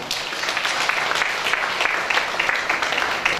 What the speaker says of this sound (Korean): 이사님들아 큰 박수를 부탁드리겠습니다